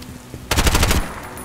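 Gunfire in the first-person shooter Bright Memory: Infinite, with a quick burst of sharp, closely spaced rifle shots rattling for about half a second, loud and close, then fading to a quiet hum.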